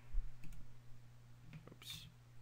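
A computer mouse clicks a few times while editing in Photoshop, small quiet clicks spaced irregularly over a faint electrical hum, with no talking.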